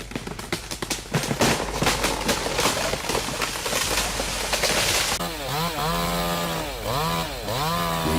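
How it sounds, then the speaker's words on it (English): A chainsaw cuts down a tree, snarling close and loud as it chews through wood in rough bursts, then revving and dipping repeatedly in pitch toward the end. "they also challenge the trees by weight with chainsaws"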